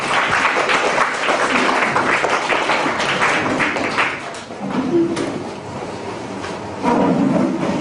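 An audience at a foreigners' camp lecture in a Seoul church claps steadily to welcome a speaker, a dense continuous wash of applause that fills the room for several seconds and swells again near the end.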